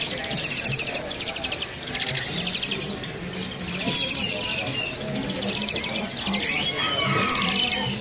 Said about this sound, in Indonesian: Di sini ada burung jalak suren anakan ya.